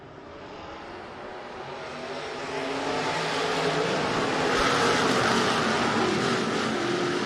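B-Modified race cars open the season at Rapid Speedway, their engines building into a loud, steady roar that swells as the pack gets going, heard alone with no talk.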